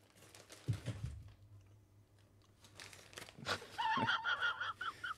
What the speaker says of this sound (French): ça je je suis en train de déchirer le cadeau